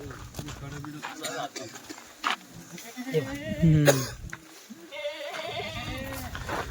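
Kathiyawadi goats bleat a few times close by, mixed with people talking and general farmyard bustle.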